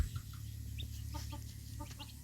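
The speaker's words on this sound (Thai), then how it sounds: "คือไก่หน่อยเจ็ดตัวที่เห็นอยู่นี่นะ" Farmyard chickens, including a brood of seven chicks, clucking in short soft bursts over a steady low background hum, moderately close but fairly quiet.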